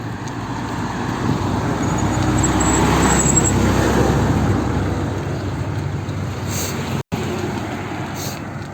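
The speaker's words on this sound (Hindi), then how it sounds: "साथ में गाड़ी आती हुई" A road vehicle passes on a mountain road near Pandoh, a broad, loud tire-and-engine rush that swells around the middle and then fades, with a brief dropout near the end.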